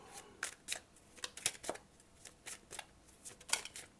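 Tarot cards are shuffled and drawn in a run of quick, crisp papery riffles and snaps, close and moderately loud, with short pauses between bursts.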